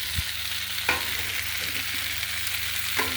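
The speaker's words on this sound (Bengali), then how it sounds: "তো মশলাটা আমার কষা হয়ে গেছে। আমি এবার সবজি এইগুলো ভাজাগুলো দিয়ে দিচ্ছি।" Fried vegetables go into a pan of cooked-down spice paste for a village-style rui fish curry, sizzling steadily and close while a spatula scrapes and stirs with a few sharp knocks against the pan, and no one speaks.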